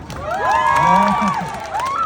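Cheering and shouting from a crowd at a church Christmas party, with high excited voices rising and falling over steady applause, loud and close throughout.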